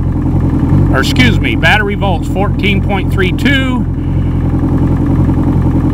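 An Evinrude E-TEC 90 HP outboard engine idles at low RPM with a steady low hum, while someone talks over it throughout, reading out diagnostic values.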